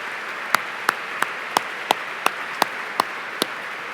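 Scattered applause at a formal award dinner honoring board members, a thin, slow run of about ten distinct claps at a steady beat, like only a few people joining in, no voices.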